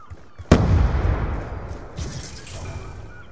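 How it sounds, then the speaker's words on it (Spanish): A grenade bursts in Call of Duty Black Ops 2, one sharp, loud close blast followed by a rumbling, debris-filled decay and a second smaller thump. "¡Va una granada!"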